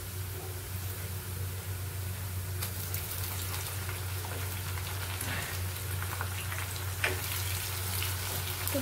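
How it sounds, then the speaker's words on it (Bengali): Ground onion paste sizzles in a pan after sliced onions have already browned, a soft and continuous crackling hiss with occasional sharper pops, and no talking. "তো বাটা পেঁয়াজটা ভালো করে আমি 5 মিনিট ভেজে নেব।"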